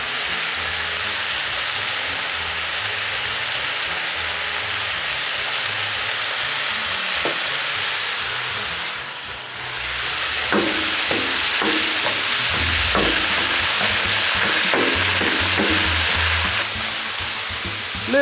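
Chorizo and hamburger meat sizzle steadily on a hot Blackstone griddle for nachos, with a brief lull midway before scraping and stirring clatter joins the continuous frying hiss.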